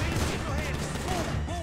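Gunfire in the video game GTA V, a dense continuous run of shots and bangs over a busy game mix with background chatter and effects throughout.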